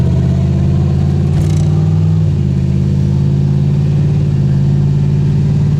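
Ford Fairmont engine pulling hard from a stop, a loud steady low drone with a pitch shift partway through as it accelerates, close and continuous with no talk.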